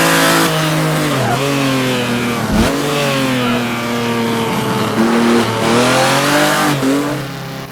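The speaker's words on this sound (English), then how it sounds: "we got a couple GTAs zooming by" Simulated GT race cars from Assetto Corsa on the laser-scanned Targa Florio road course, engines roaring loudly and continuously with rising revs and sharp dips at gear shifts as the cars zoom past.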